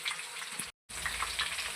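Garlic kebab pieces frying in a pan, giving a steady, close hiss of bubbling oil with a brief cut to silence midway, and no voices.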